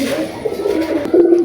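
Pigeons cooing close by in a loft, a low throaty burbling coo that rolls on steadily and grows louder near the end.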